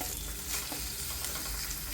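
Jeerakasala rice fries in ghee over a lowered flame for ghee rice, crackling and sizzling steadily throughout with soft scraping stirs, close and alone.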